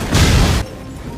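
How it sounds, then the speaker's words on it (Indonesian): Parked cars blow up one after another at a prison in a film, a loud dense roaring blast lasting about half a second before dropping to a lower rumbling tail. "satu demi satu mobil yang terparkir di area penjara tiba-tiba saja meledak"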